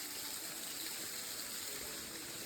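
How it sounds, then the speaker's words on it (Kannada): Rushing water from Shanti Falls, a waterfall in Karnataka's Western Ghats, fills the scene as a dense, steady roar with no breaks or voices. "ಫಾಲ್ಸ್ ನೋಡಿ, ಇದೇನೋ ಶಾಂತಿ ಫಾಲ್ಸ್."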